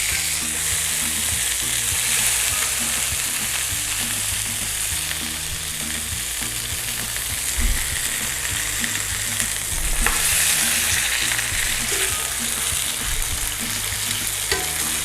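Thick pork chops sear in a frying pan, giving a loud, continuous close-up sizzle that holds steady throughout, with occasional faint shifts as the meat is moved, and no speech.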